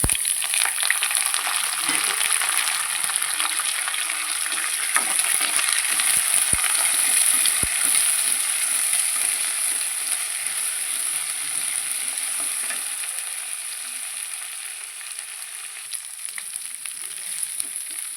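Dried chillies, green chillies, ginger paste and curry leaves fry in hot oil for Andhra-style tamarind rice, a continuous close sizzle with occasional stirring scrapes, no voices.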